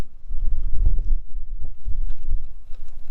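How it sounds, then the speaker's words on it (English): Strong, gusty wind buffets a winter camp, roaring in low rumbling surges that rise and fall close to the microphone with no voices. "The wind's definitely picked up all of a sudden."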